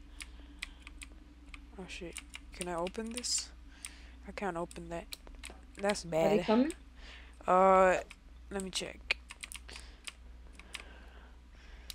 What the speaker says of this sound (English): My bad if you could hear my keyboard in the background.